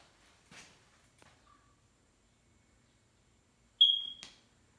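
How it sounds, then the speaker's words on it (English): A smoke alarm gives a single short, sharp high-pitched chirp inside an empty house, following a couple of faint thumps. "Smoke alarm is beeping."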